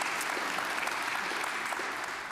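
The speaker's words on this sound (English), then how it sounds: "Please give them a round of applause." An audience at a culinary arts book panel applauds: dense, steady clapping from a sizeable crowd fills the whole moment evenly, with no voices above it.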